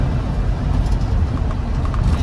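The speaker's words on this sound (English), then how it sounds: "I'm gonna get on the brakes here." A 1993 Land Rover Defender 90 with a 200Tdi diesel slowing under braking on the road, heard as a steady low rumble of engine and road noise from inside the cab with no talk.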